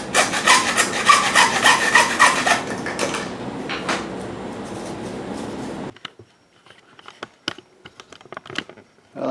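A handsaw cuts a plastic drain pipe to length in rapid, rasping back-and-forth strokes, up close and alone, then stops and leaves a few light clicks and handling taps.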